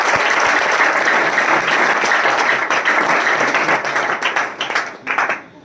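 An audience at a motivational speech breaks into loud, continuous applause, a dense wash of clapping that holds steady and then breaks into scattered, fading claps near the end.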